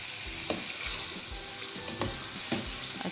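A spiced beef mixture with black pepper, white pepper and cumin powder is stirred in a hot pan for white biryani, giving a steady sizzle broken by a few scraping strokes, close and without talk.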